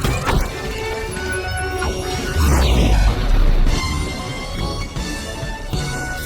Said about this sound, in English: took matters into his own hands and destroyed the game with his gun.